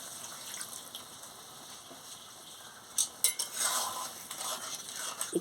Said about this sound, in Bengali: আমি সামান্য জল দিয়ে দিচ্ছি।